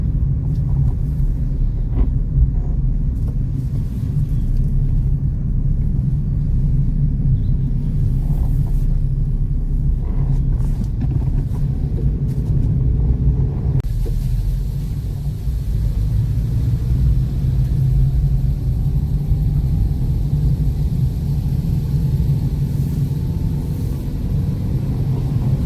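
A car climbs a winding mountain road toward Mandala Top in Arunachal in second and third gear, its engine a steady, loud low drone. Faint shifts in tone come partway through.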